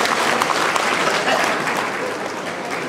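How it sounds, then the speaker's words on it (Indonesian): An audience at a hotel halal bi halal gathering claps for a few seconds, a dense, sustained wash of applause from many hands that eases off slightly toward the end. "Aplaus untuk kedua beliau."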